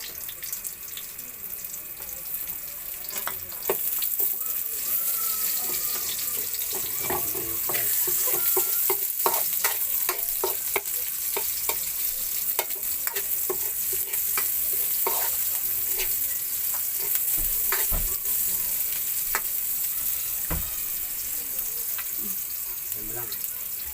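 Chicken browning in a pan with pechay and tomato, sizzling and frying steadily at a close, moderate level. Scattered sharp clicks and scrapes of stirring run throughout.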